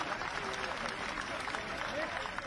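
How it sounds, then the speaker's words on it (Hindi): A crowd at a government COVID-19 vaccination drive event applauds in a continuous, even round, with a voice speaking faintly over it. "एक बार ताली बजा के अपने प्रधानमंत्री जी का भी स्वागत करें"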